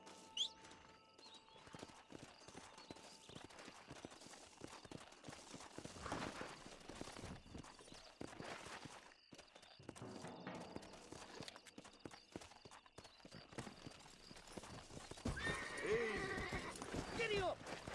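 A horse in Red Dead Redemption trots with steady clip-clop hooves and lets out a whinny, under ongoing character dialogue and game music.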